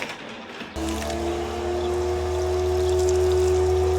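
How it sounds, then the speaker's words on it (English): Water starts pouring abruptly about a second in and runs steadily while washing a ceramic-coated 2014 Camaro Z28, with a close, continuous rushing flow and a tonal hum underneath. "Pour some water."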